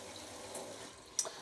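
Water trickles faintly into a Hotpoint First Edition 1000 washing machine as it fills, a soft, quiet flow with a small splashy spike near the end.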